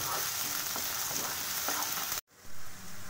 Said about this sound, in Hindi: अभी इसमें मैं प्याज डालती हूँ